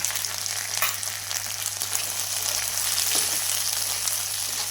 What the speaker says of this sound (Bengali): এইগুলো একটু ভাজতে থাকবে